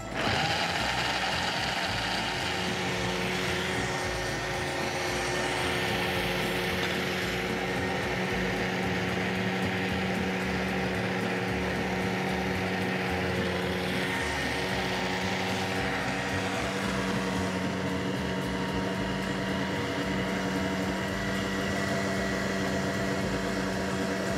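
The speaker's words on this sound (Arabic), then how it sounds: "وهضرب الحاجات دي مع بعض هتطلع لي خليط كده" An electric mixer whirs steadily for a long stretch, beating ingredients for a no-bake lemon bars batter into a smooth white mixture; a constant mechanical hum with a faint rattling edge and no voices.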